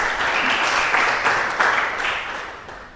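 A room of children and teachers clapping at an Indonesian school lesson, steady dense applause that swells slightly and fades toward the end, with faint voices underneath.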